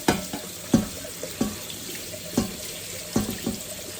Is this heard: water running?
yes